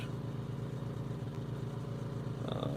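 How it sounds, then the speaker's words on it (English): Steady engine drone of a generator running as refrigeration kicks on, a low continuous rumble that rises slightly near the end, fairly faint with no talk. "my generator just revved up because my refrigeration kicked on"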